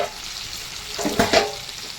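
Onions sizzle and crackle in a hot pan, a steady frying hiss with a couple of louder stirring scrapes.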